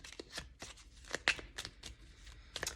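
Cards being shuffled for a tarot reading, a quick run of soft riffling flutters and papery snaps, close and fairly quiet, with no talking.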